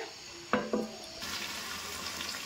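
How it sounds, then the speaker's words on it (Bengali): Meat being sautéed (kosha) in a pan, a soft sizzle broken by two sharp clinks of a utensil against the pan early on, then a steadier frying hiss, no voices. "আর মাংসটা এখন কষাচ্ছি, মাংসটা করব।"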